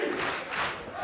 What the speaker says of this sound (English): Clearly the motivation and the cheers of the crowd has worked.